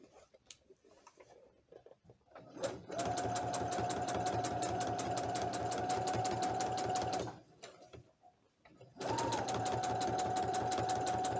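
A sewing machine stitches shorts in two steady, rapid runs of close, even needle clatter separated by a short pause, up close and moderately quiet.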